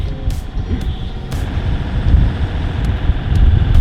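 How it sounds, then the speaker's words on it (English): Strong wind roars and buffets against the microphone aboard a boat in a continuous low rumble, with a few sharp knocks cutting through. "It's very, very windy."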